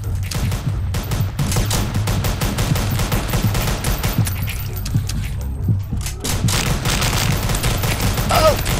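Rapid, loud bursts of gunfire in a zombie-shooting video game, close and continuous with dense overlapping shots and brief pauses throughout.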